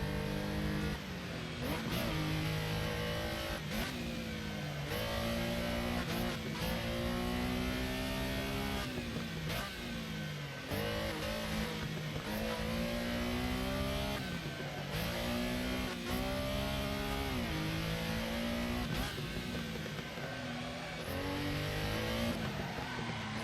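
A Porsche engine in the Assetto Corsa racing game revs hard and steadily through repeated gear changes, rising and falling pitch sweeps with brief shift breaks, loud and continuous with no speech.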